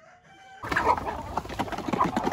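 Native chickens in a breeding pen at feeding time, a sudden burst of clucking and squawking from several birds up close, with a rooster crowing among them.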